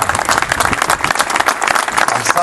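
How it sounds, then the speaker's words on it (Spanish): A crowd at a police station inauguration with a government minister applauds the accompanying band, with loud, close, dense clapping that stays steady throughout. "Quiero pedir un aplauso para la banda que nos acompaña por toda la provincia."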